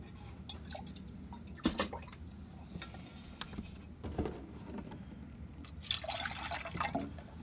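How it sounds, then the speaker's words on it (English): Fresh clean water is poured into a watercolor painter's collapsible water container, giving a close, steady splashing trickle with drips and a few light clinks of the container over about seven seconds, with no talking. "And I'll add fresh, clean water to my water container."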